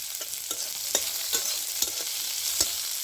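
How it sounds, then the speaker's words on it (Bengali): Onions fry with dried red chillies and five-spice in oil, an even close sizzle punctuated by about six regular spatula scrapes against the pan, no voices. "তো পেঁয়াজটা আমার ভালো করে ভাজা হয়ে গেছে"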